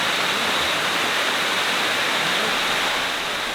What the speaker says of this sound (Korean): 지금 8번째 폭포, 저 위가 이제 7번째 폭포고.